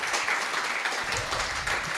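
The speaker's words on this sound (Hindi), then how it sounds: "ताली बजाना है तो बजाओ" Audience clapping together in a hall, a steady wash of many hands at moderate loudness, continuous for two seconds without talk.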